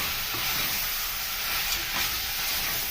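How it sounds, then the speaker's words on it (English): Pork being stirred in a hot pan with salt, giving a steady, close sizzle and hiss with faint scraping of the utensil throughout, no talk. "So you continue stirring it."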